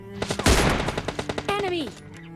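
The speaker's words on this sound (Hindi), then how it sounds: "यहाँ पर थोड़े बहुत गन साउंड आते हैं" Rapid automatic gunfire in the mobile battle-royale game PUBG Mobile Lite, a quick string of sharp shots over about two seconds, fairly loud, with a voice talking briefly alongside.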